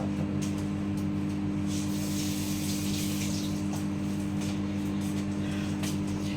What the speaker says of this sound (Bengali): দাঁড়া, হাতটা ধুয়ে নিই।